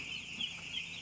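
Poultry chickens in a farm shed lit by a bulb give off soft, faint clucks and chatter, a brief murmur of several birds close by with no talk over them.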